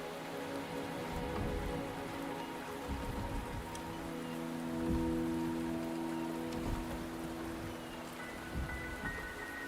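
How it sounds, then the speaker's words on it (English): Steady rain falling in the Wuthering Waves video game, a continuous close patter of drops on surfaces with a tonal game music bed underneath, no voices. "The rain is subsiding, and the sky will soon clear."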